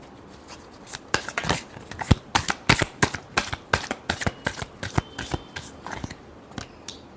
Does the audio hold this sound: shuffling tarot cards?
yes